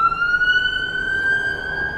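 An ambulance siren passing outdoors, one loud sustained wail that holds steady and slowly bends in pitch as it goes by, with faint traffic rumble beneath and no talking.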